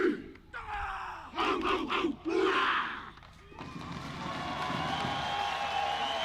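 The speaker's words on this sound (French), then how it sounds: "Et la foule en délire" At an Ireland versus Tonga rugby match, a crowd roars in bursts of chanting and battle cries, then settles into a sustained, loud wall of cheering that carries on to the end.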